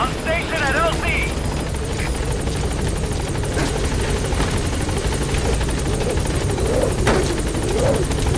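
The B-Quad helicopter in Metal Gear Solid V approaching a landing zone, a loud steady rotor drone throughout with brief radio-style speech near the start.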